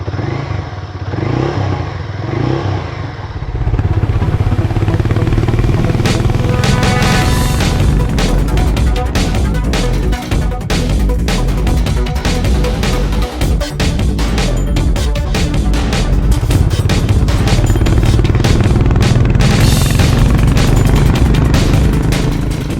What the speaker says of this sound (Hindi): हार्ली X440 का जो एग्जॉस्ट नोट है